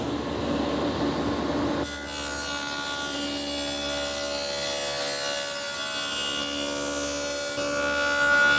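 A stacked dado head cutter on a table saw, running against a sacrificial fence, cuts rabbets along board edges; a steady whirring tone turns into a harsher grinding cut after a couple of seconds and continues at close range.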